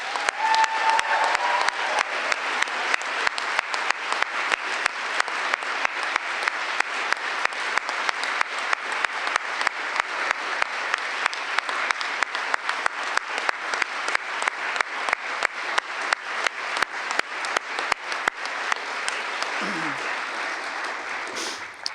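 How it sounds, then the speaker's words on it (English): A ceremony audience gives sustained applause for distinguished teachers at a teaching award event, steady and full clapping that continues for over twenty seconds before easing slightly. "let's have another round of applause for our distinguished teachers"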